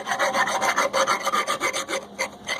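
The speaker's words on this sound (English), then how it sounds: "Let me get this cleaned up, but basically just a round file, nothing special." A round file works crud out of long stud holes in a 2010 Ford F250 axle hub, with quick, even rasping strokes repeating up close at a brisk rhythm and no talk over them.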